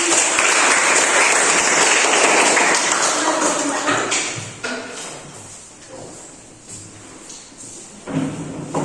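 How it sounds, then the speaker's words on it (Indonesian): An audience applauds a student performance with a loud burst of clapping that fades after a few seconds, leaving scattered claps, knocks and shuffling. "tepuk tangan dulu untuk"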